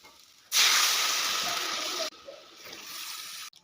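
Water poured into a hot pan of potatoes and spices sets off a sudden loud hiss and bubbling sizzle that runs about a second and a half, then drops to a softer, steady simmering hiss before cutting off.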